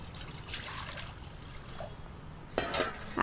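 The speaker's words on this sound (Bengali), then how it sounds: "এবার কড়াইয়ে দিয়ে দেবো পানি।" Water poured into a kadai for steaming semolina idli, a soft trickling splash near the end that grows louder and fuller over the last moments, following a quieter stretch of kitchen background.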